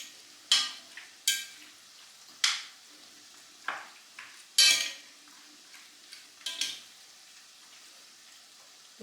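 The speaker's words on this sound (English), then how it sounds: "the tomato and tomatillo salsa can go in. And I'm just giving a good stir." A spoon stirs tomato and tomatillo salsa into a sizzling turkey and cauliflower curry, giving about eight soft scraping and clinking strokes spaced irregularly over a faint sizzle, no voices.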